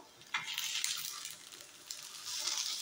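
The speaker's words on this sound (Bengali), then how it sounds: "এখন এটাকে নেড়ে চেড়ে ভাজা ভাজা করব।" Potatoes stir-frying in a pan with turmeric, chili and cumin powder, giving a steady bright sizzle that swells as the mix is turned and settles again, close and continuous with no talking.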